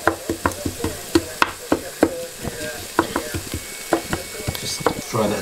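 Garlic sizzles in a pan while a utensil stirs it, giving sharp, irregular scraping clicks over a soft frying hiss. The sound is close and moderately quiet.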